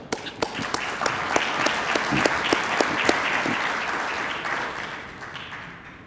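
A conference audience at a U.S.-China trade event applauds to welcome the speakers, a loud, dense burst of clapping from a full room that holds steady and then gradually tapers off.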